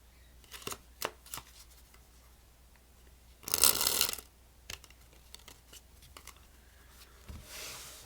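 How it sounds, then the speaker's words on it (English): Playing cards are shuffled close up, with a few sharp flicks, then a dense riffling burst, then more scattered soft card snaps, all quiet. "So we're going to give these a shuffle and have a card selected."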